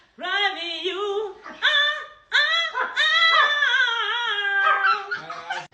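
A dog whimpers and yips in long, drawn-out, whining cries close by, several rising and falling calls separated by brief pauses, with no talking.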